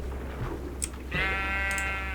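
Sheep in TerraFirmaCraft, a Minecraft modpack, bleat as they are gathered: a short high call, then a longer wavering bleat over a low steady background hum.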